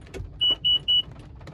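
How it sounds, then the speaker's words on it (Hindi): A car blind spot detection sensor's small buzzer gives three short, evenly spaced electronic beeps, clear and moderately loud with no talking. "ये एक ऐसा एक छोटा सा बजर जो है मार देता है, हल्का सा एक जो बजर है वो मार देता है"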